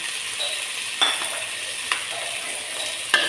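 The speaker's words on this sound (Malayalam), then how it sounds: "പച്ചമുളക് ഇഞ്ചി കറിവേപ്പില എന്നിവ ചേർത്ത് വഴറ്റിയെടുക്കാം" Green chilli, ginger, curry leaves and chopped tomato sautéing in a pan for a sardine dish, a continuous sizzle broken by several sharp scrapes of a spoon stirring against the metal.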